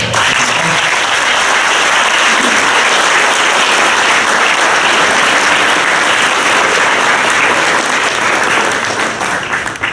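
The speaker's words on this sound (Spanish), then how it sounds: "Las personas que están acá, la pregunta que hago yo, ¿se merecen un fuerte aplauso?" Loud, dense applause from a large audience at a regional law congress, a steady wash of clapping that holds for the full ten seconds and only begins to thin at the very end.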